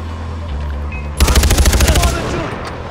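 Automatic gunfire in the Far Cry 4 video game: a loud, rapid burst of about a dozen evenly spaced shots lasting roughly a second, rising abruptly over a low background rumble.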